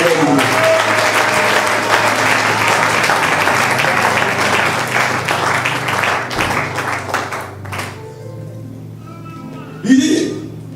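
A church congregation applauds loudly and continuously during a service, dense clapping filling the room before fading out, followed by a brief raised voice near the end.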